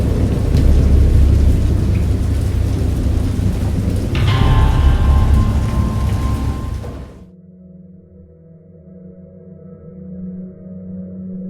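Heavy rain roars alongside deep rolling thunder, then cuts off abruptly, leaving a quiet low hum with faint rumbling.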